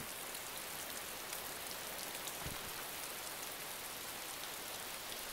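Rain falls outdoors in a steady, even hiss, faint and distant, with no voices over it.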